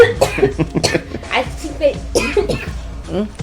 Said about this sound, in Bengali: কাশি আসলো কা তোমার?